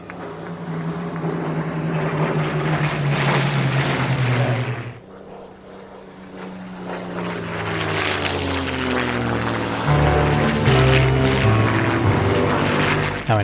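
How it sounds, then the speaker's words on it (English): Spitfire propeller aircraft flying over in formation at a 2010 seaside airshow, a loud, rough engine roar that dips briefly then swells again as the planes pass overhead, with no talking. "Down as the Spitfires come over in formation."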